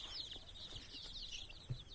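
Local chicken chicks warming in daytime sunlight give a steady stream of high, thin peeping, many overlapping calls close by, with a brief low thump near the end.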